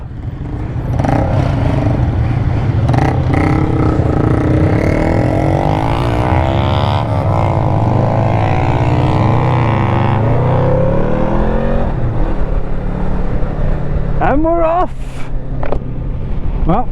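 Two-up motorbike riding in a group ride near Elan Valley, with a loud steady engine drone and rushing wind from the rider's own bike throughout, rising and falling in pitch, while a voice talks over it.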